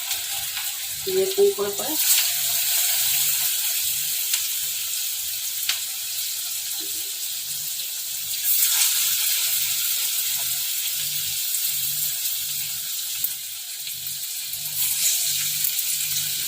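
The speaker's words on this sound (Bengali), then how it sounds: "কড়াইয়ের তেলটা গরম হয়ে গেছে। এবার এই যে ভিন্ডিগুলো আমি একটু একটু করে দিলাম।" Okra sizzles steadily in hot white oil in a pan, a continuous close frying hiss with occasional stirring, while someone talks over it.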